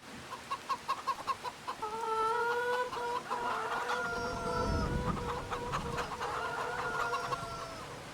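Chickens in Farming Simulator 25 clucking and cackling: a quick run of rhythmic clucks opens, then drawn-out tonal calls and a crow-like cry layer over a rising rumble, moderately loud and close.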